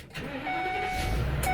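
A U-Haul truck engine turning over and catching, a short cranking whir rising into a steady running rumble that grows louder toward the end, heard up close.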